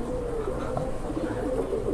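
A Siraji pigeon coos close by in a low, rolling, continuous murmur.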